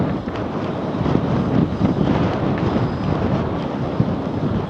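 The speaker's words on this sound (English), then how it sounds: "It is so windy out today though." Strong wind blowing outdoors, a steady, heavy rumble buffeting the microphone with continuous gusting roar and no letup.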